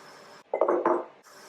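Hard-boiled eggs set into glass jars for pickling, a short cluster of clinks and knocks against the glass that rises briefly and then stops, close by with no talking.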